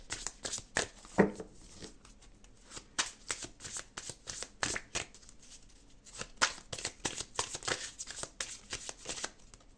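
A deck of tarot cards being shuffled by hand, with dense, rapid riffling and slapping bursts running steadily and close up throughout, with no talking.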